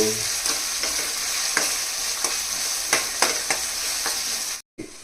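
Mutton fries in a pan with a continuous sizzle, while a spoon stirs it with sharp, regular scraping strokes close by, ending in a brief cutoff.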